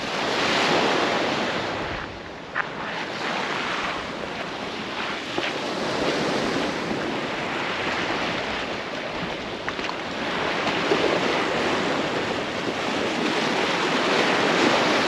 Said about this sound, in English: So I'm checking out this new beach that I haven't been to.